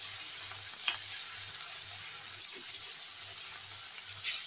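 Rohu fish pieces fry in oil in a steady, soft hiss, with a faint low hum beneath and a couple of brief clinks; no one speaks.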